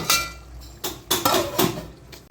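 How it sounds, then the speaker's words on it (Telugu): Metal lid set onto a cooking pot of Kashmiri chicken masala curry, a handful of sharp clanks and clinks spaced over two seconds, close and distinct, with no voices. "ఇప్పుడు మూత పెట్టేద్దాం."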